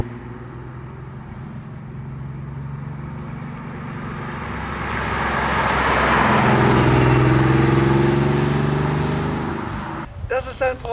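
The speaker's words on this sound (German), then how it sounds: "Das ist ein Porsche 964 RS, das heißt, es ist die Sportausführung" A 1992 Porsche 964 RS, the lightweight sport version with an aluminium bonnet, drives with a steady engine drone that swells louder mid-clip as it passes near, then fades, ending in a brief clatter.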